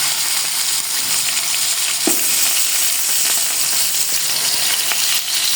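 Steady, loud sizzling of chicken frying with garlic paste in a hot pan for Sindhi biryani, with a faint scrape of stirring partway through and no voices.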